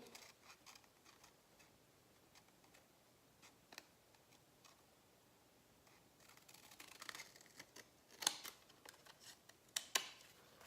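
Scissors snip through card in a run of quiet, sharp clicks, sparse at first and then quicker and louder toward the end, with no talking.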